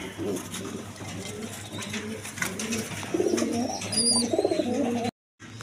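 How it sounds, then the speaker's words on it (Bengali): A pair of high-flying pigeons, one male and one female, coo softly nearby in repeated low, throaty phrases, with a few faint chirps and light rustling, then a brief silence at the end. "দেখেন নটটা হাই ফ্লাইং কবুতর, মাদিটো হাই ফ্লাইং।"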